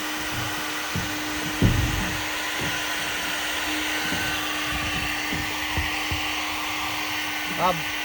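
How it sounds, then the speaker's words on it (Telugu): A hot air welding gun heats a PVC tank lid, giving a steady, close blowing hiss with a faint hum that runs throughout while people talk over it. "వెల్డింగ్ కూడా లోపలికి వెళ్ళి హీట్ చేసి"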